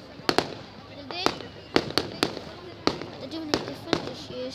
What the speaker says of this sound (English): big fireworks at the beginning